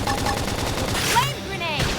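Rapid gunfire in the sci-fi action RPG Xenoblade Chronicles X, a dense burst of shots with a brief laser-like zap, layered over game music and effects.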